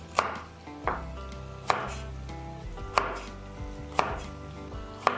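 Fresh coriander and ginger chopped on a board with a knife, five or six evenly spaced firm chops, close and clear over background music, with no talking.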